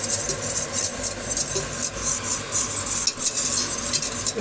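A utensil stirs food frying in a pan with almonds and flour during Ramadan preparations, giving a steady close sizzle with continuous scraping and light clinks of metal against the pan and no talking.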